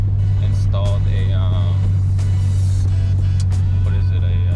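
A car fitted with an Invidia N1 dual exhaust sits running with a strong, steady low droning hum throughout, while a person talks over it.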